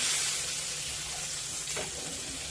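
Pomfret fish frying gently in a pan over low heat, Agri style, gives a soft, even sizzle and hiss that holds steady throughout, close by with no voices.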